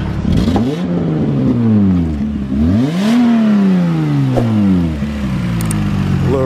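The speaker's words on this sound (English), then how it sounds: "Let's see if I can get my woman to do some revs." A little race car with a small motor is revved in cold weather, its engine note sweeping up and down several times in close, loud, repeated bursts with no talking.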